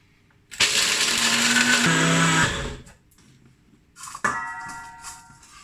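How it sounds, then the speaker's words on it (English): A NutriBullet blender grinds almonds in a loud, dense whir of about two seconds that drops in pitch near the end, followed by quieter clatter and a brief fainter mechanical hum. "which I'm going to ground up in my NutriBullet"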